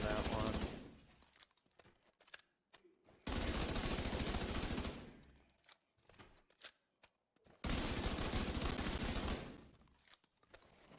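Video game gunfire from an SMG build in The Division 2, with two loud sustained automatic bursts each lasting about two seconds, separated by quieter gaps with scattered shots.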